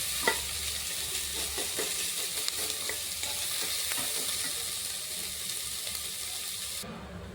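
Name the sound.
green chillies frying and being stirred in pan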